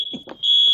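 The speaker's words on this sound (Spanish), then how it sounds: "está sonando una alarma de fuego" A fire alarm sounds during a live broadcast, a loud steady high electronic tone that starts partway in and then holds without a break, with faint murmur underneath before it takes over.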